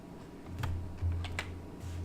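Mouse clicks in Photoshop come as a few sharp, quick taps, some paired, close up and fairly quiet over a low steady hum.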